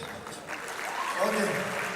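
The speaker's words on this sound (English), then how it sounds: "With your biggest applause, I would like to invite President of İPET, Professor Başar Cander." Applause from a congress audience of emergency medicine professionals swells into steady clapping after an announcement, with voices mixed in.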